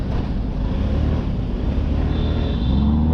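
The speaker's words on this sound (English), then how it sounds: "Dang, it's a sick ass Lamborghini." A Lamborghini sports car drives past in a city street, its steady engine and road roar loud and close over wind noise, with a rising tone near the end as it moves by.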